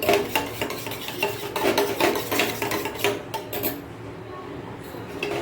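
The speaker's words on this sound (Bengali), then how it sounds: "বাটিতে একটা ডিম ফাটিয়ে নিয়েছি তার মধ্যে পেঁয়াজ কুচি লঙ্কা কুচি আর একটু নুন দিয়ে ভালো করে" A beaten egg with chopped onion, chili and salt is mixed in a bowl, making quick rhythmic scraping and clinking strokes up close that stop partway through, leaving a quieter room.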